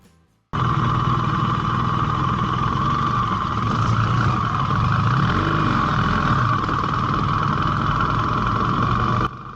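A BMW R1300 GS motorcycle cruises along remote California roads toward Yosemite Valley, a loud, steady engine drone mixed with wind rush that begins abruptly and holds evenly throughout.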